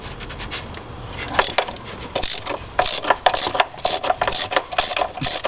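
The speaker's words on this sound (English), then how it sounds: "Pull the spark plug out." A spark plug socket turns and works a spark plug loose from the engine of a 2003 Ford Escape, giving close ratcheting clicks, scrapes and metallic rattles in an irregular series, with no talking.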